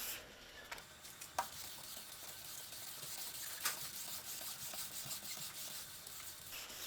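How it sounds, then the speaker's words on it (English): Steady, soft wet rubbing as an oxidized car headlight is sanded side to side by hand, with a continuous hiss and a few faint clicks. "And then you want to do side-to-side motions with overlapping."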